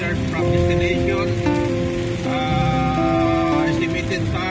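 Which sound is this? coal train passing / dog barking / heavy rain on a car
heavy rain on a car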